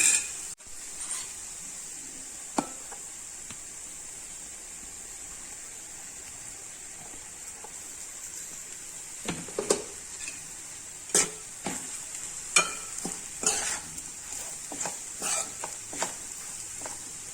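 Cooked rice being stirred into fried coconut in a pan for coconut rice, a steady sizzle throughout with scraping spoon strokes that grow more frequent in the second half.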